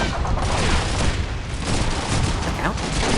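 Stick grenades exploding in Call of Duty 2's Pointe du Hoc D-Day mission, a dense, continuous roar of blasts and battlefield gunfire that stays loud and unbroken throughout.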